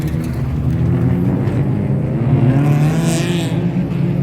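An Opel Corsa A with a 1.4-litre eight-valve engine on a youth autocross course at Eppe, revving loud and near, its pitch climbing under throttle and holding steady with no voices.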